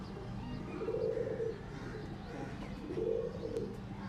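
Two soft, low pigeon coos rise and fall in a steady pattern, one near the start and another about two seconds later, over a faint background hum.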